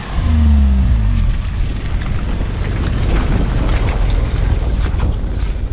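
A Tata Tiago hatchback stuck on a rocky mountain pass, its engine droning and straining under load with heavy rumbling and scraping, loud and close throughout, a low booming tone at the start.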